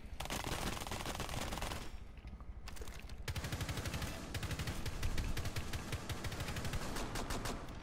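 Rainbow Six Siege gunfire rattles in rapid automatic bursts with a brief lull, then resumes as sustained, sharp, loud shots.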